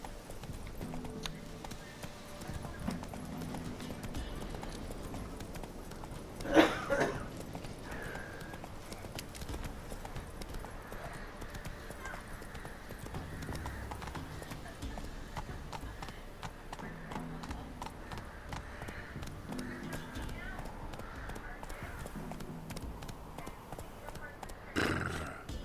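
Geralt's horse Roach from The Witcher 3 game, hooves clip-clopping in a steady galloping rhythm at moderate distance, with a loud snort or whinny partway and faint game ambience underneath.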